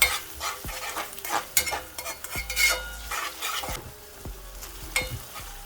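Garlic and hot pepper being stirred in a pan while cooking smoked herring, with repeated spoon scrapes and knocks against the pan over a soft sizzle, close and uneven in rhythm, no talk.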